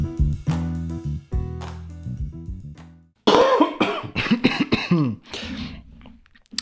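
Musical tones open, then a person coughs repeatedly in a close, loud burst of rough, harsh coughs that trail off into smaller hacks and throat clearing.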